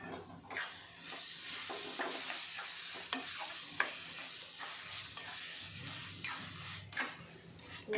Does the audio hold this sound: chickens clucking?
no